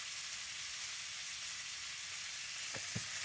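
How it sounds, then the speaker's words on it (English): Chopped onions frying in bacon fat sizzle with a steady, dense hiss throughout, with two brief scraping stirs near the end. "So now I'll put the onions in there."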